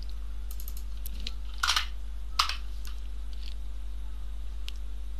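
Keys clacking on an IBM Model M mechanical keyboard, a few separate bursts of typing over steady low hum, fairly close and moderately loud.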